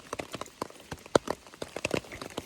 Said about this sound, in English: It's been raining on me straight for 3 hours